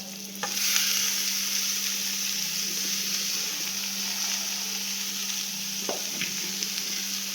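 Shredded cabbage and carrot sautéing in a hot pan for a cabbage poriyal, a continuous bright sizzle with occasional stirring scrapes, close and steady, no voices.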